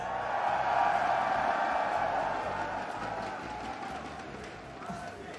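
An arena audience at the ESL One Malaysia Dota 2 tournament, OG versus Fnatic lower bracket semifinal, cheers and murmurs in a sustained wash behind an on-stage interview conversation, swelling early then easing slightly.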